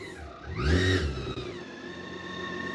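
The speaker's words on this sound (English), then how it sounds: "And then the revs picks up and you start moving." A BMW K1600 GTL six-cylinder touring motorcycle revs up loudly, its engine note climbing in a strong swell, then settles into a steady smooth drone as the bike pulls away, close by with no talk.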